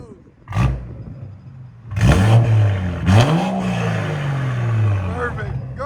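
Up close, a 2019 BMW 540i with a 3.0L turbo inline-six, downpipes and straight pipes revs hard twice, each roar settling into a loud, rumbling idle that drones on.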